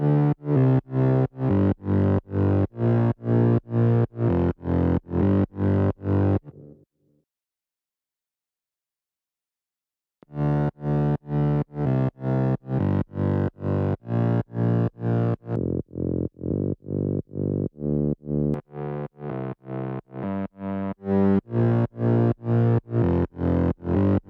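A three-layer distorted synth bass from a progressive house remake plays a fast, gritty, buzzing pulse of repeated notes, loud and alone, with a silent gap of a few seconds before it resumes and shifts tone.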